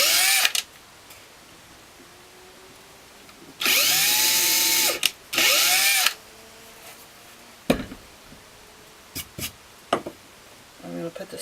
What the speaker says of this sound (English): So I'm going to go ahead and pre-drill.